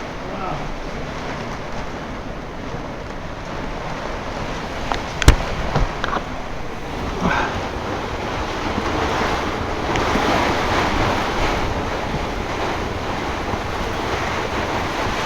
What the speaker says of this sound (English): I think this is a tornado. The wind is the other way now.